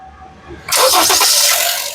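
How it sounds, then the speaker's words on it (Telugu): A 2019 Honda City ZX car engine starts with a single quick crank, catching abruptly and settling into a loud, steady idle close by after a quiet moment. "మళ్ళీ ఒకసారి స్టార్ట్ చేసి చూపిస్తాను స్టార్ట్ చేయి"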